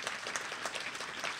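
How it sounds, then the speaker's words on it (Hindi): An audience at the opening ceremony of a theatre festival applauds, a fairly soft but dense patter of many hands clapping at once, even and continuous with no talk. "भाई छोटे भाई नीरज जी के नाम से जोरदार तालियां"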